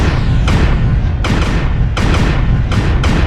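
Clustered cannons on a mech in the MechWarrior Online video game fire in loud, sharp booming volleys, five blasts about three quarters of a second apart, each ringing out with a decaying rumble.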